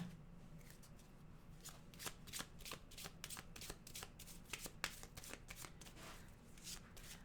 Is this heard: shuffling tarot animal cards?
yes